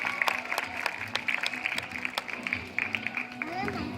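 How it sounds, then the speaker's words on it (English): Audience applause for a trained seal at an aquarium seal show: a steady wash of many hands clapping with crowd murmur and scattered voices, fairly loud and continuous throughout. "Let's give her a nice big round of applause"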